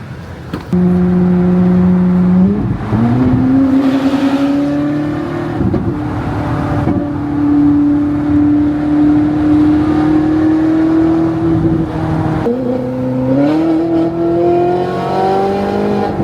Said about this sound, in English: Let's see this car on the racetrack.